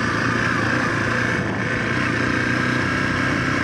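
A brand-new Zontes 350T motorcycle rides slowly along a wet dirt path, its engine droning steadily and loudly close to the microphone for the whole stretch, with wind rush mixed in and no talking.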